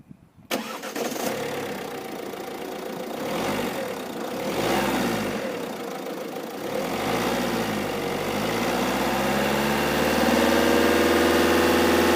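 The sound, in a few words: Fiat Tipo 1.6 Multijet diesel car engine starting and idling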